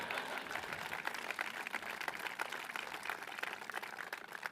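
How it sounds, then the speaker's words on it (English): An audience at a mayor's State of the City address keeps up sustained applause, moderately distant clapping with a busy, crackling texture that continues evenly throughout. "if you can keep clapping"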